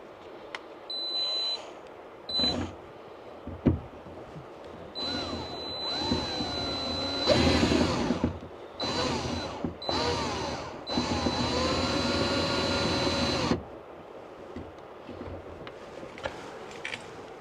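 A power screwdriver whirs in several separate bursts of rising and falling motor pitch, some brief and one held for a few seconds, close and loud with quiet gaps between them.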